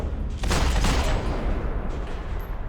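Gunfire in Max Payne 3: a loud, continuous barrage of shots and booming impacts fills the scene at close range without a break.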